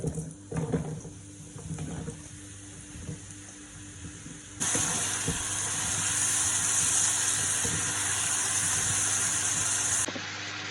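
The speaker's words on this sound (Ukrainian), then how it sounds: "Обсмажимо гриби." Mushrooms drop into a hot pan and sizzle loudly and steadily over high heat, following a few quieter clinks and kitchen movements at the start.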